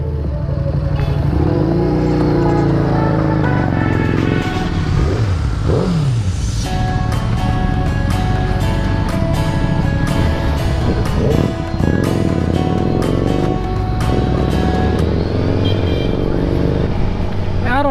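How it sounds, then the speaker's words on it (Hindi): A loud motorcycle engine revs and pops nearby during a group Sunday ride, its steady roar rising and falling in pitch for the whole stretch, with brief bursts of backfire-like crackle. "बाइक काफी ज्यादा पटाखा मारती है भाई।"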